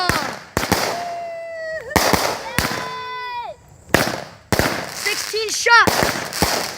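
Fireworks for the Fourth of July go off in a rapid series of loud bangs and crackles, with rising whistles and sharp reports, while people cheer and talk throughout.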